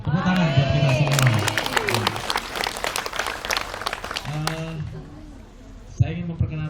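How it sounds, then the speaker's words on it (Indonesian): An audience at an iftar gathering breaks into sustained applause and cheering, with a voice speaking over the clapping at the start and again near the end. "Tepuk tangan buat kita semua."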